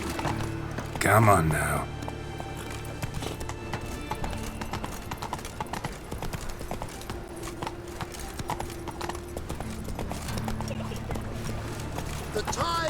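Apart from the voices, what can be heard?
horse galloping in video game Witcher 3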